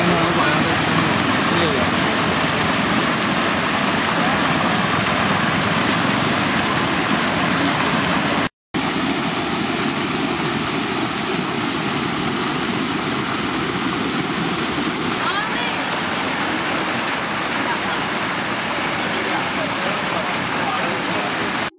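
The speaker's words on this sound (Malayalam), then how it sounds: "എന്നിരുന്നാലും വിള്ളലിലൂടെയുള്ള ജലമുഴക്ക് നിലയ്ക്കാൻ സമയമെടുക്കും." Water gushes through a breach in a Periyar Valley canal bund and pours into a stream beside farmland. It makes a loud, continuous rushing roar that barely changes, with one very brief dropout partway through.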